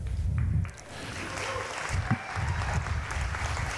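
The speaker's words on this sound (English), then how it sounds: "y'all got to stop clapping so much" Audience at a Georgia GOP chairman candidates' event claps and cheers over a low rumble of crowd noise, a sustained, fairly loud wash of applause with a brief dip and swell partway through.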